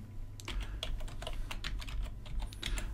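Fingers tap quickly on a computer keyboard, a close, fairly quiet run of irregular clicks and key presses with no voice over them.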